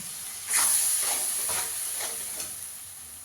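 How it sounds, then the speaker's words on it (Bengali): Spices fry in a hot pan as turmeric powder and water are added, a sudden sharp sizzle and hiss that stays steady, with several soft scraping stirs underneath, close and fairly quiet. "একটু হলুদ গুঁড়ো দিয়ে দেবো। খালি জল দিয়ে দেবো যাতে পুড়ে না যায়।"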